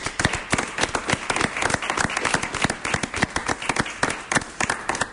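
Dense, steady applause from a studio audience greeting a guest author on a French talk show, many hands clapping loudly and continuously.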